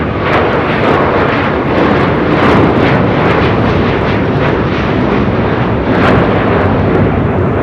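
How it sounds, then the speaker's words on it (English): A Qatar Airways Airbus A350-1000 jet takes off from LAX, a loud, sustained roar of jet engines that holds strong and steady throughout, with no talk over it. "This is Qatar Airways 740 Qatari 69 uniform taking off to Doha on the A350 1000."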